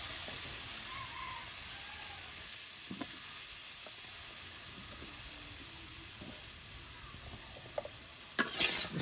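Raw mango murabba boils in a pot on a village clay stove, giving a steady, faint bubbling hiss throughout, with a brief clatter near the end.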